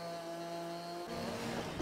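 A steady tractor engine drone in Farming Simulator 22 with tonal harmonics shifts to a rougher, revving rumble partway through, heard alone.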